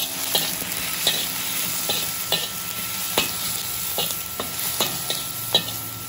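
Garlic sizzles steadily in a hot pan while being prepared for beef mechado, with a spoon or spatula scraping and stirring at a roughly regular beat, close and moderately loud, with no talk.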